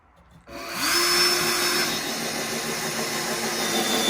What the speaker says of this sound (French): Et là vous voyez qu'on noie la vis sans problème